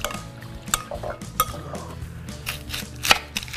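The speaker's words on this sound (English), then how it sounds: "Give it a stir." Julienned red pepper stirred in a bowl for ceviche, with scattered light clinks and taps of a utensil against the bowl, a few sharper knocks in an irregular rhythm, quiet and close, without speech.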